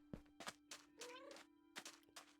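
A person's voice imitates a warbling, bubbly underwater cat meow during a Minecraft Bedrock game stream, a quiet, brief wavering cry among soft thumps and clicks.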